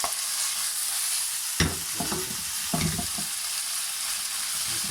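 Maggi noodles and potatoes stirred in a frying pan over steady sizzling, with a few distinct scraping strokes of the spoon midway; close, with no talk.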